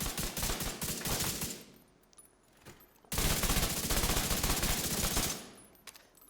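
Automatic gunfire in a Division 2 training area, two long loud bursts of rapid shots separated by a brief lull with a few scattered rounds, then tapering off at the end.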